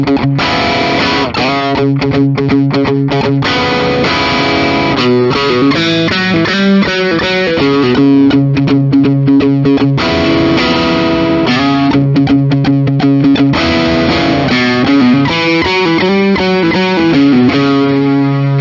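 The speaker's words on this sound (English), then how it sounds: "Let's try some distortion." Gibson electric guitar with modern pickups played through heavy distortion, loud and sustained with strummed chords and riffs ringing continuously throughout.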